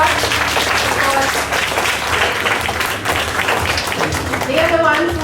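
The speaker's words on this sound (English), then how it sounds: "I think they need a big applause" Parents at a Class 5 school orientation give the class teachers a dense, sustained round of applause, loud and close, with voices mixed in near the end.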